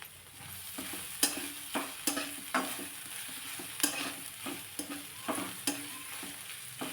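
A paste of coconut, coriander, ginger and garlic roasts in a pan, a steady low sizzle broken by repeated scraping stirs of a spoon at an uneven rhythm, close and fairly quiet, with no talking.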